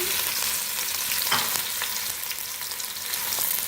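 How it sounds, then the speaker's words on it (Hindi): Onions frying in hot oil, three large ones, giving a dense continuous sizzle with a few faint stirring scrapes, close and steady. "इसको फ्राई करेंगे। गोल्डन ब्राउन करेंगे।"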